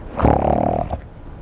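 One rough, rumbling snore about a second long, loud and close, then quiet breathing noise after.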